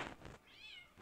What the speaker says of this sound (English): You realize, Cat, you are meowing.